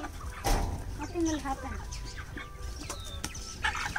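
A chicken clucks repeatedly at close range on a farm in Kenya, its calls mixed with people talking and other farmyard noise.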